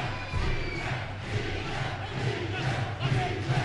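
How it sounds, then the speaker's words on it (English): A boxing crowd at a 1993 fight chants in unison, a loud rhythmic roar of many voices filling the arena and swelling in repeated waves. "The crowd are chanting easy,"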